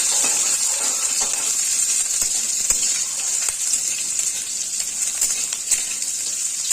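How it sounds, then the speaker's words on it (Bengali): Moringa drumsticks dropped into hot oil and frying, a steady bright sizzling hiss throughout with small crackles and pops, close and continuous without any talking. "এখন সজনাগুলো ছেড়ে দিচ্ছি।"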